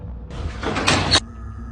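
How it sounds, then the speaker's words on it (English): A door slides open in one smooth, rising whoosh that ends abruptly after about a second, close and fairly loud, with faint background noise before and after. "it's not just about the door opening"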